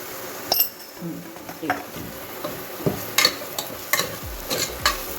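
Spice powders, including turmeric, fry on a low flame while being stirred, a soft sizzle under irregular scraping and clinks of a spoon against the pan, close by with no clear talk.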